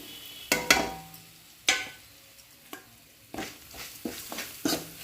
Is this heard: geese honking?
no